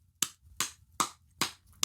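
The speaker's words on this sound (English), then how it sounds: "Many claps." Hands clap in five sharp, evenly spaced bursts, each a crisp separate smack with short silence between, fairly close and alone without any voices.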